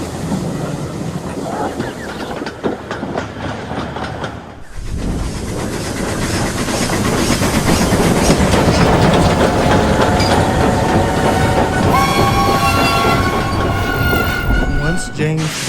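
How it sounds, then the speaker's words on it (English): A goods train rolls along the rails with a loud, continuous rumble and rhythmic clatter, and wheels squeal toward the end. "James was just taking his last goods train to Vicarstown"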